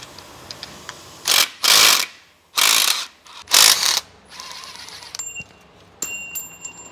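Ratchet wrench with a 13 mm socket clicking in three or four quick bursts of ratcheting, close up in a garage while replacing a starter motor, followed by lighter metallic taps and clinks.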